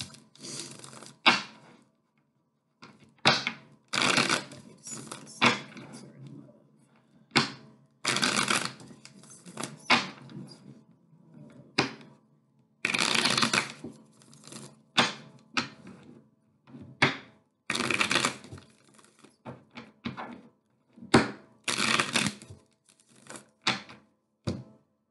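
A Rider-Waite tarot deck is shuffled in repeated short bursts of riffling and card slaps, close and crisp, with quiet pauses between each round.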